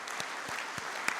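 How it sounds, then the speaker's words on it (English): Audience at a KEPSA 10th anniversary celebration applauds its board directors and governors, a brief steady round of clapping with a few sharper claps standing out. "we'll give you a round of applause"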